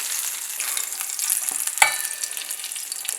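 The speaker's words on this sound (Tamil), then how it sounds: "இந்த தாளிப்பை எடுத்து வெள்ளரிக்காய் கட் பண்ணி வச்சுருக்கிறதுல போட்டுடுறேன்" Hot tempering with curry leaves, just taken off the stove, is tipped into a bowl of chopped cucumber, giving a soft crackling sizzle with one sharp hiss burst partway through, close and fairly quiet.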